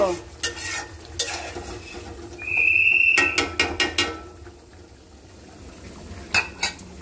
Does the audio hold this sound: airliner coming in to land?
no